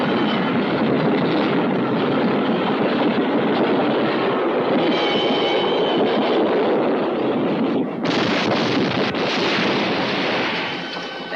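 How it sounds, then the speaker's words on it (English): A train of soldiers rumbles past a bridge, a loud, continuous broadband roar with heavy rolling rail noise that surges brighter near the end before easing off slightly. "you blew the bridge after the train had passed"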